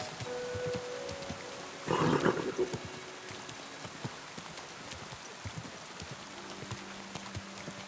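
Horse hooves clip-clopping in the video game Kingdom Come Deliverance 2, a steady series of soft hoof knocks over a rain-like hiss, with one brief louder burst near the start.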